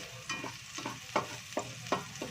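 Pork for caldereta is sautéed in a pan with no extra oil. A utensil scrapes and stirs in quick, rhythmic strokes over a steady close sizzle, with no voices.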